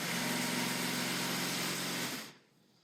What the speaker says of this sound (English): You can hear a sewing machine in the background there.